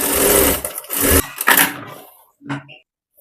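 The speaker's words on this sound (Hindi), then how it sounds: "अब इसमें भी सेंटर पे सिलाई लगा दूंगी।" A sewing machine runs in bursts, stitching down the centre of a boat neck princess cut blouse with lining, loud and close, with short pauses between runs.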